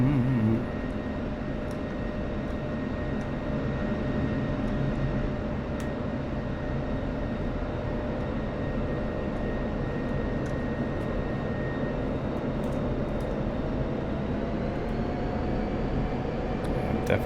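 F-16 jet in a flight simulator on approach to land on runway 22, a loud steady engine roar with a faint whine rising slightly near the end, no talk.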